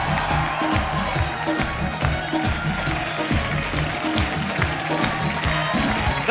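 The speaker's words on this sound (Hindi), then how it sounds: "उनके लिए जोरदार तालियां" A studio audience on an Indian comedy talk show bursts into sustained applause and cheering, a loud, continuous wash of clapping that carries through the whole stretch.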